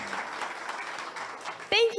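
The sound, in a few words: audience applause at ribbon cutting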